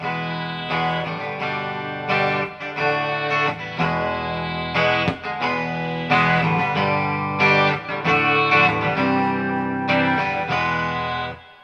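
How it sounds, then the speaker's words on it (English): Electric guitar played through a Quilter 101 Reverb Mini Head amp with its reverb engaged, ringing chords and melodic phrases with a lush, slightly chorused, driven tone, close and steady for the whole stretch without talk. "Got a nice bit of reverb right there for you."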